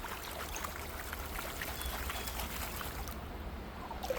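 Stream water trickling and splashing during gold panning, a steady close burble with small irregular splashes across the whole stretch and no talk over it.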